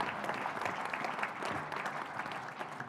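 An audience at a 2022 signing day show applauds the coaches with dense, steady clapping that fills the whole stretch at a moderate distance and holds even throughout.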